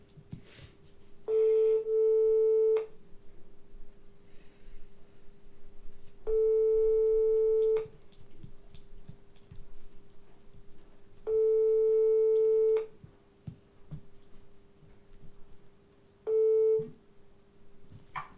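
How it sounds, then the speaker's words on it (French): A phone call on speakerphone rings out four times, each long electronic ring tone spaced by several seconds of quiet, loud and clear over a faint steady hum. "on l'appelle tout de suite, je le mets en haut-parleur"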